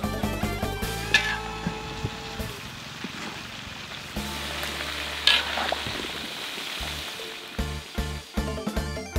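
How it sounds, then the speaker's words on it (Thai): Marinated fish heads fry in hot oil, a steady close sizzle and bubbling with a few clinks of utensils against the pan, continuing alone without any talking. "ได้เวลานำหัวปลาที่หมักไว้ลงไปทอด"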